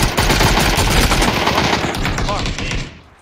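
Rapid, loud machine-gun fire from a video game rattles continuously for about three seconds before tapering off, with a voice faintly mixed underneath.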